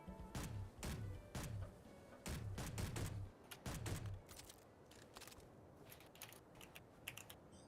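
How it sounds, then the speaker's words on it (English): Gunfire in the Space Engineers video game, heard as sharp, rapid bursts of shots in quick clusters, fairly loud at first and then thinning to scattered fainter cracks, with no talking over it. "I hear gunshots from quite a distance away"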